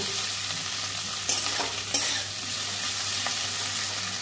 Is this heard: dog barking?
no